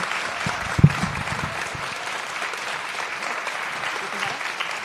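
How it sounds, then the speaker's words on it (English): A crowd claps steadily in sustained applause, a dense patter of hands with a voice briefly audible over it. "can we please have a huge round of applause for our writers and our editor"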